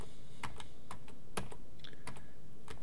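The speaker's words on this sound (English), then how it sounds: "I can basically just hover over and hit the delete key" Computer keys are tapped while working in Maya 2018 3D modeling software, a series of sharp, irregular clicks close to the microphone over a faint background hum.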